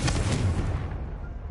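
A loud, booming Confringo fire spell blast in the video game Hogwarts Legacy, a single heavy explosion that hits at once and rumbles off over about a second and a half.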